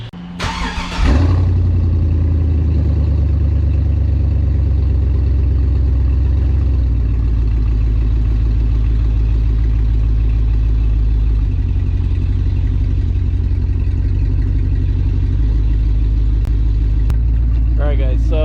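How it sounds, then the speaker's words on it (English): A 6.0 Chevrolet Silverado SS pickup engine fitted with a Volant intake cranks and catches with a loud roar, then settles into a steady, deep, rumbling idle that continues throughout. "we're gonna get this truck started, see how it sounds like"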